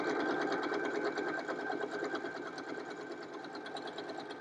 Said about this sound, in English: this is what happens on a sewing machine that only goes 750 stitches per minute